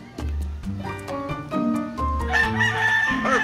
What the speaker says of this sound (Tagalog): Ito yung mga manok namin, bisayang manok.